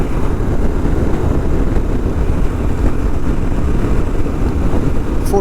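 Motorcycle engine held near 5,000 rpm on an open road in Namibia, a loud, steady drone heavily buried in continuous wind rush against the microphone.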